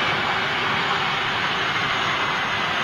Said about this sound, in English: the Virgin 330s out of Manchester operate the CF6 engines